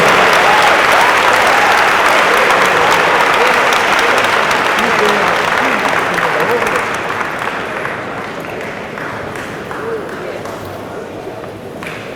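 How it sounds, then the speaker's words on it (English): Loud, dense audience applause fills a university homecoming convocation hall, a steady wash of many hands that tapers slightly toward the end, with a few voices mixed in. "Let's give him another round of applause."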